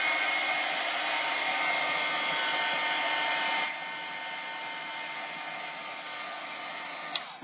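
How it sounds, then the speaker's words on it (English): A hair dryer blows steadily and close up over a mixed media fabric journal page, a continuous whooshing hum that drops slightly in level partway through, then ends with a brief click. "So I'm going to give this a quick dry, probably right here like this."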